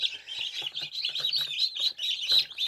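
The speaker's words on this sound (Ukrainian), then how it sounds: "Зараз ось цих наших новонароджених пташенят переселяємо" Newborn chicks just hatched in an incubator peep continuously in high, rapid chirps, several birds overlapping close to the microphone with no pauses.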